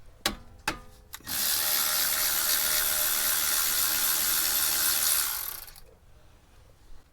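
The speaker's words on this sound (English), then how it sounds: "So using a 12mm socket, I'm going to remove those" A 12mm socket on a ratchet removes caliper pins on a 2009-2015 Toyota Venza 3.5L: a few sharp clicks come first, then a long loud whirring buzz of about four seconds that cuts off.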